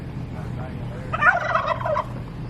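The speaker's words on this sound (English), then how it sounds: "So the turkeys are beautiful." Turkeys on a well-kept family farm let out a burst of gobbling, a rapid warbling call lasting about a second over steady low outdoor rumble, fairly close and clear.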